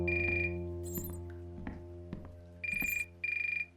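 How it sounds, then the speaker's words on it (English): A phone rings in the video game The Uncertain, sounding as two short electronic trilling bursts over a low sustained background tone, with a few clinks between them. "phone's ringing"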